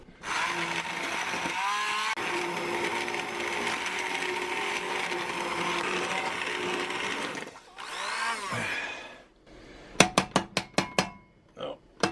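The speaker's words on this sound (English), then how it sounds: "Alright, so now what I'm gonna do is I'm gonna use an immersion blender." An immersion blender whirs steadily in a pot of butter chicken sauce for about seven seconds, close and fairly loud, then cuts off. Sharp knocks and clatter of the blender against the cookware follow.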